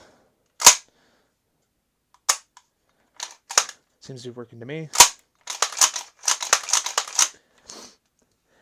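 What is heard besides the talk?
shotgun action dry firing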